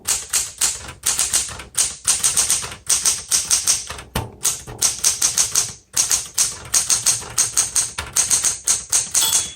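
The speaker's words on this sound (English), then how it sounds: "it has a very pleasant sound" Rapid, crisp clacking of a 1970s Smith Corona Galaxie Deluxe manual typewriter, keys struck in quick bursts with brief pauses and an occasional carriage thunk, close and alone.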